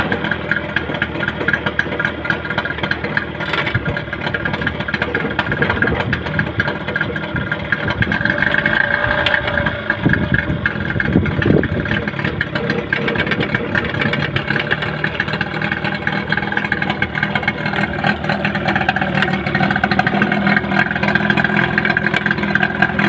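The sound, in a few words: Yamaha 15 hp outboard engine starting and running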